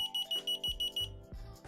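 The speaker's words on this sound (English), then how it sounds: "you'll hear a beep coming out of your transmitter" A key finder transmitter beeps in a quick, regular run of about nine short, high, close tones, followed by a few clicks and a low hum.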